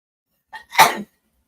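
A single sharp sneeze, close and loud, preceded by a short intake of breath, then silence.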